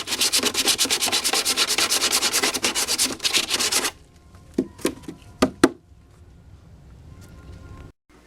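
Dense, rhythmic rasping of 180 grit sandpaper worked by hand over crash-damaged motorcycle bodywork, steady strokes for about four seconds, then a few sharp knocks and faint handling sounds in near quiet.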